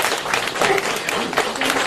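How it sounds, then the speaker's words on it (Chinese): Audience applause at a Buddhist dharma assembly in Paris, a dense wash of many hands clapping steadily throughout, close and fairly loud. "鼓掌"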